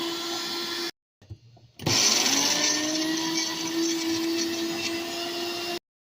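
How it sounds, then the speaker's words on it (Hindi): Electric mixer grinder blending onions without any water, a loud steady motor whine that briefly cuts out, restarts with a rising pitch, then runs steadily before stopping. "तो अब मैं प्याज पीसूँगी।"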